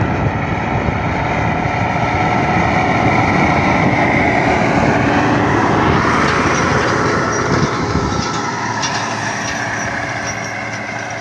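John Deere 6610 tractor pulling a SANIKA trailing harrow across a field, a loud, steady rumbling drone with broadband rattle that holds evenly throughout, easing slightly toward the end, with no voices.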